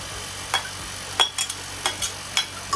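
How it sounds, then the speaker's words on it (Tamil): Rice being stirred and mixed into chicken fried rice in a hot pan, a series of sharp, evenly spaced scraping strokes over a low, faint sizzle, close and clear with no talking. "நான் வந்து இப்போ ரைஸை வந்து மிக்ஸ் பண்ண போகிறேன்."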